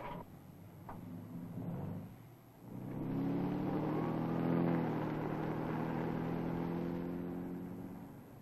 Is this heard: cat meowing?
no